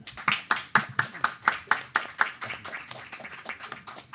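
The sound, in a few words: audience applause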